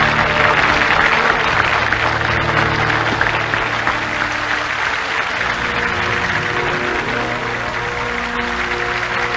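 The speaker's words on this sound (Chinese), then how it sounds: "站上去了，大家鼓掌。" Audience clapping at a stage stunt where a man stands on thin paper, a loud continuous wash of applause over droning background tones and hum, sustained for the whole stretch.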